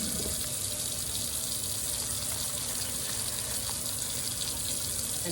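Rubbing alcohol pours steadily into a container, a continuous gushing splash at close range with no talking.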